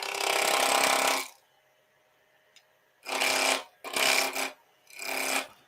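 A skew chisel planing across a cracked wooden bowl blank spinning on a lathe, heard as four loud, broad shearing passes separated by near-silent pauses, the last three coming in quick succession.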